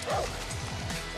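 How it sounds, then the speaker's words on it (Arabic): A dog in the video game Far Cry New Dawn gives a short, rapid run of yelping barks, fairly close and moderately loud, amid game noise. "والله كلب يقتلني كذا كثير"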